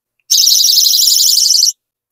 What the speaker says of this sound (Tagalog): Ayun ang ating angel wing sound.